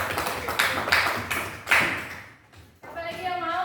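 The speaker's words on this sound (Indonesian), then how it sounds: "oke, tepuk tangan dulu." Classroom hand-clapping comes as a run of quick, uneven claps that fades out, followed by a voice speaking.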